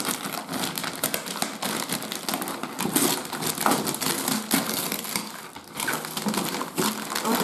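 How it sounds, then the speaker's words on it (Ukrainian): Crinkly wrapping and packaging being crushed and torn open around a Secret Santa gift box, a continuous close crackle and rustle with no talking. "Зараз будемо розпаковувати і дивитись"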